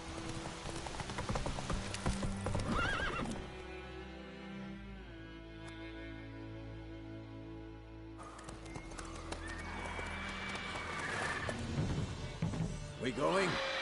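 A horse in The Witcher 3 gallops with rapid clip-clop hoofbeats, then lets out a long, clear neigh in the middle before the galloping resumes, all fairly close.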